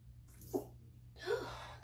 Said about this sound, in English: That was a sneeze, sorry.